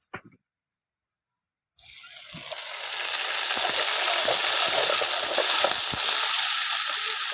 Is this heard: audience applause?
no